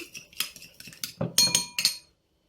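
Yogurt is whisked in a bowl, with a run of quick metallic clinks and scrapes of the whisk against the bowl, close and fairly loud, ending abruptly in silence.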